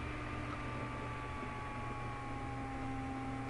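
A laptop's cooling fan whirs steadily under heavy virtual machine load, a continuous close hiss with a faint tonal whine held unchanged throughout.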